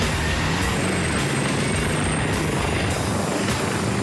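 A mountain rescue helicopter gives off a steady, loud rotor and engine roar that stays constant throughout, with no voices.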